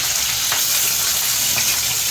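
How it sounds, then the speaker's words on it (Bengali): Round slices of bitter gourd fry in hot oil, giving a steady, loud, close sizzle that continues without a break and with no talking. "এর এক পাশে একটু উচ্ছে ভাজা করছি, গোল গোল করে উচ্ছে ভাজা"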